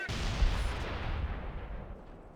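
An artillery barrage in Company of Heroes 1, a US versus Panzer Elite match, lands as one heavy rumbling boom that rolls on and slowly fades over about two seconds, with no talk.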